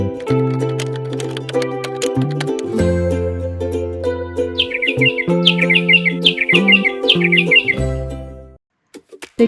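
Baby cockatiels give rapid high chirps in quick repeated bursts midway through, mixed with steady melodic music that plays throughout and stops near the end.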